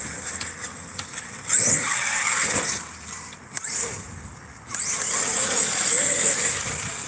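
An Arrma Kraton 8S RC truck running outdoors, its electric motor whining and revving in loud surges with quieter dips between, high-pitched squeals riding on top.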